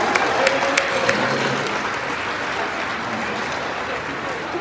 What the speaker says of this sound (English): she want to get all her applause